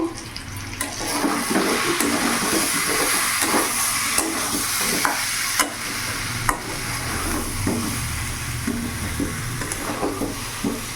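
Round potatoes stir-fry in a pan over a gas flame, a continuous close sizzle broken by repeated scraping and clinking of the stirring spoon, with no speech.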